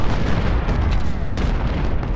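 Cannons fire in the Civil War strategy game Ultimate General: Civil War, a dense run of overlapping booms and blasts with a sharp burst near the middle.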